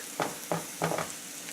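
Garlic fries in a pan with a steady, close sizzle, broken by three or four quick stirring scrapes in the short stretch.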